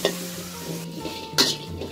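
Garlic and shallots sizzle softly in a pan while a utensil stirs them, with a sharper scrape or clink near the end and no voices.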